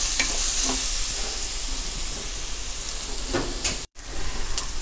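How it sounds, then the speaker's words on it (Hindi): Stuffed okra frying in oil over a low flame: a dense, even hiss of sizzling that runs continuously, broken only by a momentary cutout near the end. "इसे अच्छी तरह से हमें थोड़ा गोल्डन होने तक फ्राई कर लेना है।"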